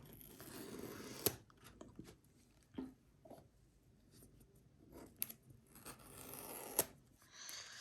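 Opening the packaging of an Apple Watch Series 8 45mm Graphite stainless steel, quiet close cardboard scrapes, rubs and tearing with a few sharp clicks and snaps, spaced irregularly.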